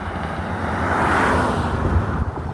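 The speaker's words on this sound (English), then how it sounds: "I apologize about the road noise" Road traffic rumbles past outdoors, a continuous broadband wash of cars swelling and fading as vehicles go by, fairly loud and steady with no talk over it.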